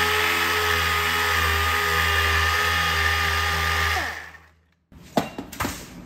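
A power sander works a dented steel body panel of a 1966 Triumph GT6, a loud steady whine that runs for about four seconds, then spins down to silence, followed by a few scraping knocks.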